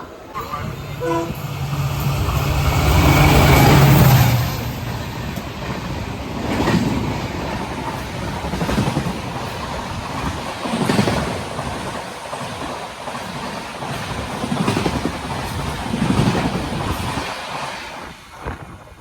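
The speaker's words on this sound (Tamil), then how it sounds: "ஸோ ராமேஸ்வரத்துலேருந்து தாம்பரம் போகிற வண்டி செம ஃபாஸ்ட்டாக போயிடுச்சு" The horn of the 16104 Rameswaram–Tambaram express blares loudly as it rushes past, followed by a rapid, rhythmic clatter of wheels over rail joints that slowly fades.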